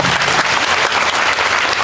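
Loud, sustained audience applause filling the hall at a teacher's motivational school event, dense clapping from a large crowd with no voices over it.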